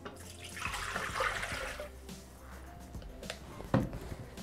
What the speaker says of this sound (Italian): continuiamo la ricetta versando all'interno del boccale l'acqua